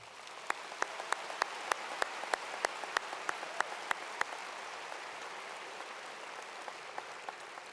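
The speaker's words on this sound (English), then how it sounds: "please join me once again in applauding these distinguished graduates" Faint, distant applause from a graduation ceremony audience, a soft wash of clapping with a dozen sharp, regular claps standing out near the start before the sound fades into a steady patter.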